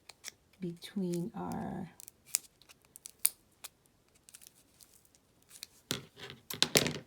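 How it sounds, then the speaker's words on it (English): Scissors snip tape on a bracelet woven from straws, giving a few quick crisp cuts near the end after a stretch of speech. "we are going to carefully cut the tape"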